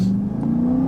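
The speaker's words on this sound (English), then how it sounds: "after letting a car go by" A car's engine drones steadily with a slowly rising pitch, loud and close, as it drives along the road.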